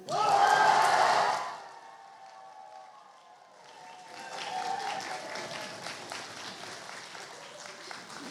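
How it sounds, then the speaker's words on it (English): A school audience bursts into loud applause and cheering at a radio contact event with an astronaut, then the noise fades to a murmur before a second, softer round of clapping and stamping rises. "feel free to stamp your feet, clap your hands, shout as much as you can"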